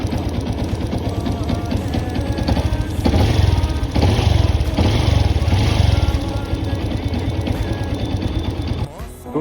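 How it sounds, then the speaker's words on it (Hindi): A Yamaha FZS 2.0 motorcycle engine idles nearby with a rapid mechanical ticking from its decompressor, a steady loud chatter over a low engine hum that swells briefly midway and drops off at the end, with someone talking over it. "ये आवाज़ है डीकम्प्रेशर की, जो आपकी बाइक में लगा होता है।"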